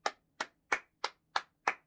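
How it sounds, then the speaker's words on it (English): Six sharp hand claps in an even, steady rhythm, each crisp and close with a quick decay, sounding alone with no talk, like one person clapping slowly. "give the man a round of applause, because why?"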